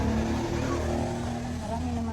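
Steady drone of passing vehicles on a town road, with engine hum and traffic noise running throughout while a voice speaks over it.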